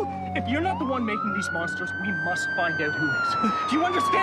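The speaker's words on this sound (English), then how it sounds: "that's just a siren!" A wailing siren rises and holds a long sweeping tone in the background while someone talks over it, with other voices and busy movement around.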